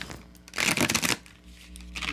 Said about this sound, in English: do one more shuffle with these